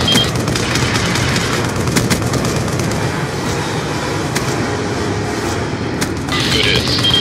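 Gunfire and an air strike in the video game Call of Duty: Black Ops, a dense, loud wall of rattling shots and rumbling blasts running throughout, with a sharper burst near the end.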